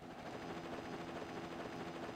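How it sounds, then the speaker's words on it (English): A transport chopper approaching in the Mega Man Zero video game gives a steady, droning rotor thrum with a rapid pulsing beat, held at an even level throughout with no voices. "The transport chopper is rapidly approaching."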